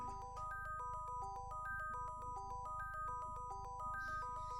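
An electronic phone ringtone from the Mario is Missing video game, a steady, repeating chiptune melody of bright tones over a constant low hum, filling the whole stretch at a moderate level.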